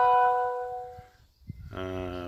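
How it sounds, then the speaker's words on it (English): A phone notification chime plays twice, bright tonal harmonic notes that sound, fade, then return after a short quiet gap, clear and close with faint background noise. "That's a notification in my phone."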